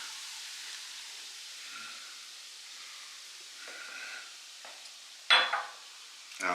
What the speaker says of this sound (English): we are going to deglaze the bottom of this pan with that beer